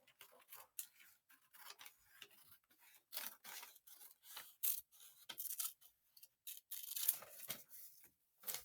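Scissors snip diagonally across a sheet of paper, a quiet run of short crisp cuts and rustles in an otherwise hushed room, with no talking.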